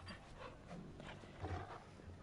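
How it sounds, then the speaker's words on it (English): Dog panting in Final Fantasy 16 while being petted, quick soft breathy huffs in an even rhythm, faint and close with some low rumbling underneath. "I am going to pet my dog."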